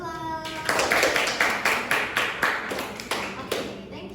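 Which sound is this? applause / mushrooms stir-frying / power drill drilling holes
applause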